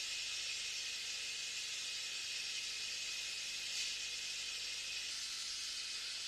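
A brazing torch hisses steadily while joining the suction and discharge pipes of an air conditioner compressor, a continuous even high hiss held close.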